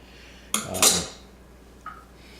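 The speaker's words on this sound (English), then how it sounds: "So give it a bit of a stir, get it mixed up really well." A utensil stirs nearly two liters of homemade limoncello in a container, producing a short cluster of close metallic clinks and scrapes, then a single fainter knock, in an otherwise quiet room.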